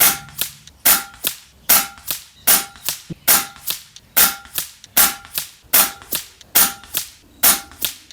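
A .22 FX Wildcat air rifle with a 700 barrel fires pellets at 100-yard targets: about eleven sharp, loud cracks in a steady, rapid rhythm, each snapping off quickly with no voices.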